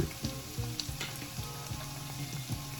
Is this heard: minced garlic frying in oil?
yes